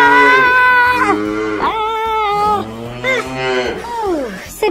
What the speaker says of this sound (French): mais comment on va faire pour attraper cette vache maintenant?